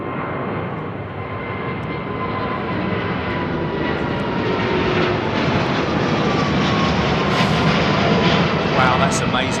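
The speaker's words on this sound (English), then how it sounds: "listen to those engines, man. Nice departure." A jet airliner departing London Heathrow passes overhead, its engines roaring loud and broad throughout, swelling slightly toward the end, with people speaking faintly beneath the noise.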